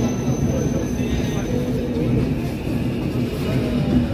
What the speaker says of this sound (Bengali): আমাদের ট্রেন ছেড়ে গেল হাওড়া থেকে।